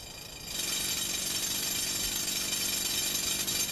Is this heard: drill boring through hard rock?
yes